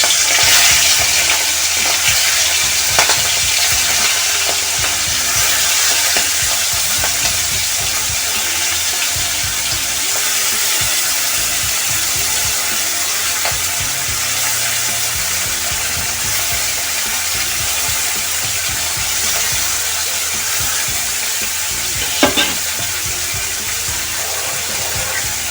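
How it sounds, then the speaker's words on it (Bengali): Prawns for lau chingri fry in hot oil, a steady dense sizzle that runs the whole time with faint stirring and a few clinks and scrapes mixed in, no talk. "মাছগুলো আমি লাল লাল করে ভেজে নেব"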